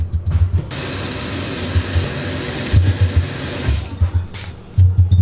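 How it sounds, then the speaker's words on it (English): Fish being washed under a running tap in a kitchen sink: a loud, steady rush of water close by, broken by splashes and shifts as the fish are handled under the stream. "I'm going to wash them."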